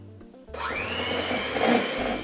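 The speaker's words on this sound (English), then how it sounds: "you probably want to use an electric whisk rather than beating it by hand" An electric whisk beats sponge batter for a chocolate fondant, starting up with a rising whine after a brief pause, then a loud, steady, close motor whir with the beaters churning through the mixture.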